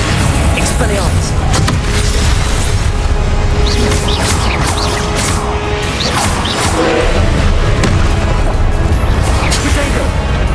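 Spell combat in Hogwarts Legacy, with a disarming Expelliarmus cast amid a dense, continuous barrage of booming impacts, crashes and magical whooshes, loud and close throughout.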